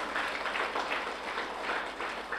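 Audience claps for fathers during a village church feast at the Chathampatti St. Ignatius shrine, a steady, moderately loud wash of applause lasting a couple of seconds.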